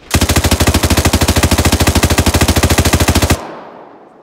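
Sustained automatic fire from a machine gun in the military shooter ArmA 3, a loud, close, rapid even burst of about three seconds with no breaks, then a fading tail.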